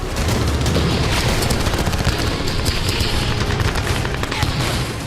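Dense, continuous gunfire crackles with heavy booms underneath, loud and sustained throughout, like a close-range firefight mixed with explosions, as Russian forces fire on Ukrainian naval drones in the Black Sea after a drone blast.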